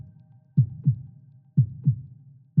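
Heartbeat sound effect opening a podcast about living with heart disease: paired lub-dub thumps repeating at a steady, slow rhythm over a low hum, close and clear, with no talking.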